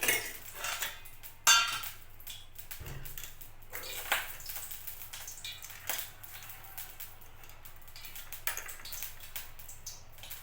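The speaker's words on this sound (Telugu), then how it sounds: "ఇప్పుడు బాండి స్టవ్ వెలిగించి బాండి పెట్టి బాండిలో కొంచెం ఆయిల్" A kadai being set on a lit stove and oil added, with scattered metallic clinks and knocks of pan and utensils over a low steady hum, mostly quiet between the clatters.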